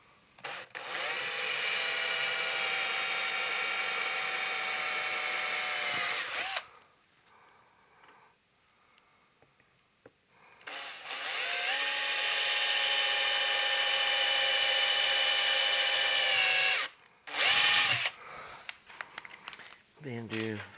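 A power drill whines loudly in two long bursts separated by a quiet pause, followed by a short third burst, drilling holes in a metal tube amplifier chassis.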